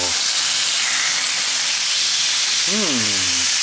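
Pork with miso and BBQ spice sizzling on a grill after being flipped, a steady loud hiss and crackle close up, with a short rising tonal squeal near the end.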